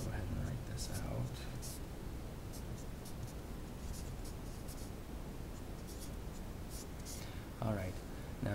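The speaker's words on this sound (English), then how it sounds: "I'll go ahead and write this out." A pen scratches softly and steadily while an equation is written out during a quantum mechanics lesson. It sits under a constant hiss, with brief voice fragments near the start and end.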